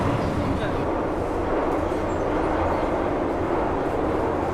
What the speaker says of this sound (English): I decided to take the underground